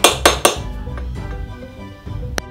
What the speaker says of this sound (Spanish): el grabado de inscripciones en las lápidas con cincel y martillo